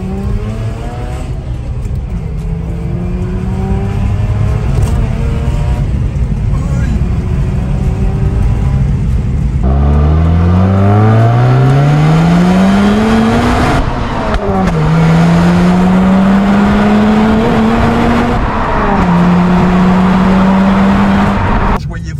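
A Mazda RX8 with a rotary engine accelerates hard through several gears, its high smooth whine climbing in pitch, dropping at each shift and climbing again, loud and close, with people talking over it.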